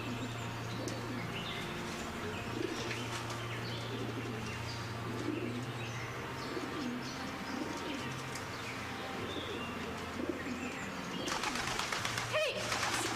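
Pigeons coo in soft repeated low calls alongside scattered chirps of other birds, a steady busy flock nearby, with a brief burst of flapping near the end.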